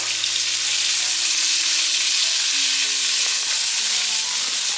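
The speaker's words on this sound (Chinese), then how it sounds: "姜末大约炒了1分钟左右，放入玉米笋还有甜豆" Baby corn and snap peas stir-fried in a pan with minced ginger give a loud, steady sizzle that runs without a break, with faint tonal sounds underneath.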